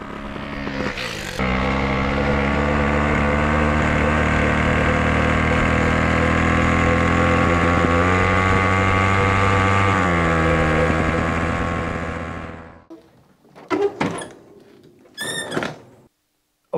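A two-stroke diesel moped engine running on a castor oil, kerosene and starter fluid mix drones loudly and steadily for about twelve seconds, then cuts out, followed by a few scattered knocks and rattles.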